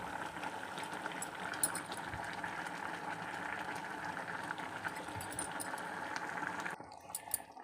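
Egg curry simmering in a tangy tamarind-style broth with garam masala and coriander, a steady close bubbling hiss throughout, then quieting near the end with a few faint clinks.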